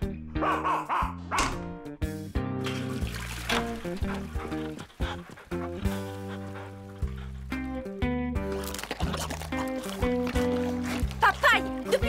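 A cartoon dog barks and yips repeatedly from an animated French series, close and lively, mixed with character voices and background music.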